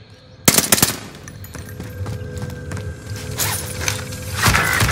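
Video game gunfire from a fast automatic weapon in an arena shooter: loud, sharp bursts in rapid succession, with mechanical clicks and clatter in between and louder firing again toward the end.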